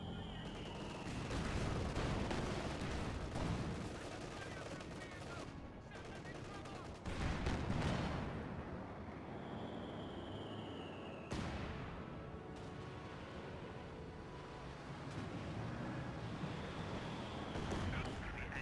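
Artillery barrage in Company of Heroes 2, a dense run of booming impacts and gunfire layered over a continuous roar of battle, loud and sustained, with a voice speaking over it.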